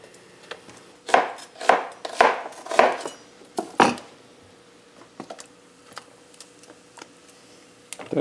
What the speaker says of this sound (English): the garlic we're gonna chop into chunks as well